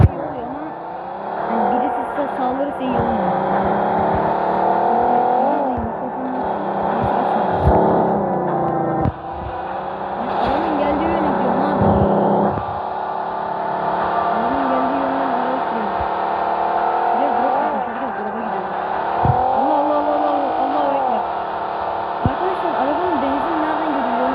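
A car engine in the video game PUBG hums and shifts pitch as the vehicle drives and accelerates, running steadily throughout with a person talking over it.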